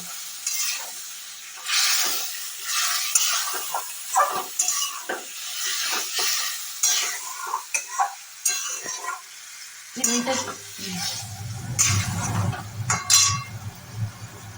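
Chital fish pieces simmer with spiced curry masala after water is added, sizzling and bubbling steadily in a pan with stirring scrapes and occasional utensil clinks; the bubbling turns deeper and louder near the end.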